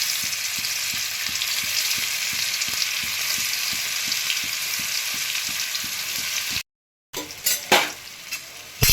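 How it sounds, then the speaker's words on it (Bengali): Paneer pieces sizzle loudly in hot refined oil in a kadai while being stirred, with a steady, close frying crackle and regular scraping strokes, then a brief cutoff followed by clattering utensil knocks. "এবারে আমি পনিরগুলো তেলের মধ্যে দিয়ে দেব, হালকা করে একটু সতে করে নেব।"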